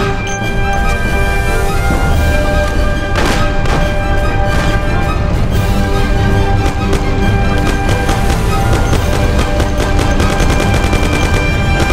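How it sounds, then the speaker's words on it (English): Continuous dense gunfire and loud rapid shots from the video game Mafia fill the mix, with heavy booms throughout and no talk. "You and Sam shoot them!"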